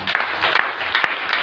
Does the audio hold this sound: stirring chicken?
no